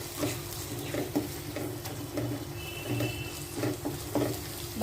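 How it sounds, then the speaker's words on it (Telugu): Ginger garlic paste fries in a pan of chicken for gongura chicken, giving a steady soft sizzle with light stirring scrapes and taps over continuous background noise. "ఇప్పుడు అల్లం వెల్లుల్లిపాయ పేస్ట్ వేసేద్దాం."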